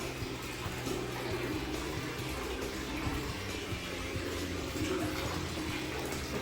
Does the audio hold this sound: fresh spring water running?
yes